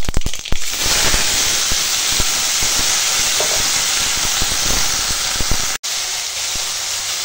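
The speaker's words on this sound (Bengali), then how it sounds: "এই যে বলতে বলতে সর্ষে ফাটতে শুরু করে দিয়েছে" Mustard seeds splutter and pop in hot oil in a home kitchen, giving a loud, constant sizzling hiss broken by irregular sharp crackles and pops, with a brief dropout near the end and no voices.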